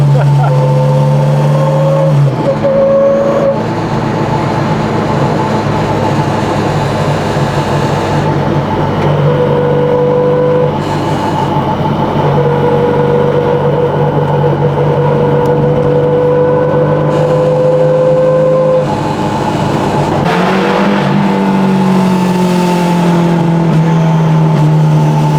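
A Datsun engine running on carburetors revs hard inside a car, its drone climbing and falling through repeated pulls for about twenty-five seconds, loud and close, with a brief drop near the middle.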